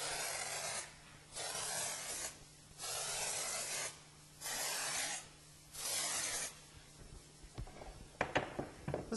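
Contact cement sprayed from a pressurized canister in crisscrossing box-coat passes, five steady hissing bursts of about a second each separated by short pauses, followed by a few faint clicks and rustles.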